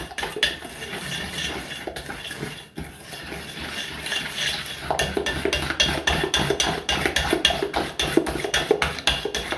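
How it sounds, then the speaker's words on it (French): Marbled donut batter mixed vigorously in a bowl, quiet stirring at first and then fast, regular scraping and tapping strokes that grow louder and more rhythmic in the second half, without talk. "on mélange bien fort"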